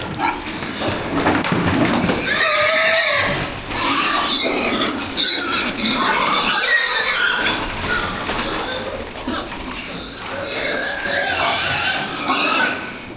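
A pig squeals and grunts loudly and almost without pause while being given an FMD vaccine injection on a farm, its cries rising and falling close by.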